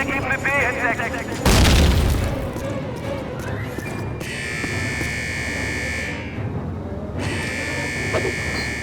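A grenade blast in the World War II shooter Call of Duty, Eder Dam level: a loud, heavy boom bursts out early amid continuous gunfire and game noise, followed by sustained ringing tones.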